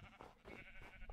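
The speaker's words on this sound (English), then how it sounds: "Oh, well, there's a sheep." A Minecraft sheep bleats in survival mode: a very faint, short, nasal bleat with a couple of wavering pulses, heard alone and quietly in the distance.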